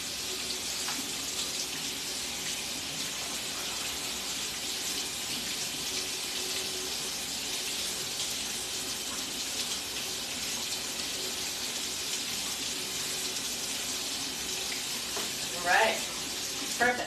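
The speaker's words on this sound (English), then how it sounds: "we're gonna rinse these off real good." Chickpeas rinsed under a steady running kitchen tap, a constant broadband hiss of water through most of the stretch, with a brief clatter and a short spoken remark near the end.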